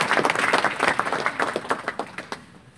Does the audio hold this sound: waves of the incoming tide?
no